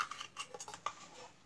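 A spoon stirs ground spice masala into batter for savoury namkeen pua, giving a few soft clinks and scrapes against the bowl over a brief moment, close but very quiet.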